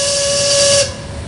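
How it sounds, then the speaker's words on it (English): A ship's steam whistle sounds in the Hidden Mysteries Titanic video game. It gives one loud, sustained tonal blast with a breathy steam hiss, then cuts off sharply, leaving faint room tone. "You didn't just blow the whistle, did you?"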